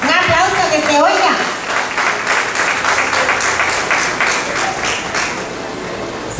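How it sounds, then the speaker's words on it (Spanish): An audience bursts into sustained applause at a stage performance, a dense wash of clapping that follows a brief voice at the start and continues steadily. "Un aplauso que se oiga."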